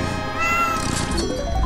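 Cartoon cats meow in a Smiling Critters video game cutscene, a loud drawn-out cry with a rising and falling pitch, followed by more chatter-like cat sounds over a busy game soundtrack.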